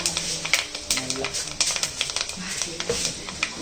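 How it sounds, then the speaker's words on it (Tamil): Fenugreek seeds pop and crackle in hot oil in a home kitchen while a fish curry is being made. Quick, irregular sharp ticks are scattered over a low background, close and fairly quiet. "வெந்தயம் வெடிச்சிச்சு."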